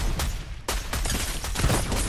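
Automatic sniper rifle fire in Fatal Fields during a gun-game match, several loud, rapid, booming shots in quick succession, close and dense.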